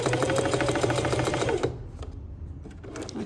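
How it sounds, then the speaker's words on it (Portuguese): Sewing machine running steadily while topstitching a kids' multipurpose pouch, a fast rhythmic close-up whir that stops, leaving quieter handling sounds. "O pesponto eu vou começar sem dar retrocesso."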